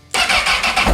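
A Honda with a HISS immobilizer fires up on a newly programmed aftermarket key: after a brief quiet moment the engine catches abruptly and holds a loud, close, steady running roar.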